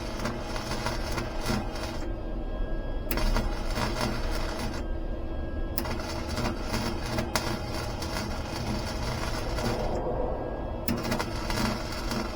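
Welding on a kayak trailer pipe that is burning through, with a loud, steady crackle and sizzle broken into several bursts by short pauses.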